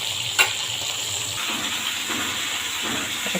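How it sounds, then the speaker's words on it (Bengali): Pomfret fish frying in a pan and being turned over, a steady hiss and sizzle of hot oil with one sharp clink near the start and soft bubbling throughout. "সব মাছগুলোকে আমি এভাবে উল্টে পাল্টে ভেজে নেব।"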